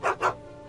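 Dog in the Back to the Future video game giving two quick, close barks in a row, followed by quiet.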